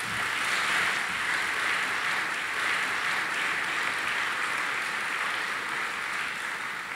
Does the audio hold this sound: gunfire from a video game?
no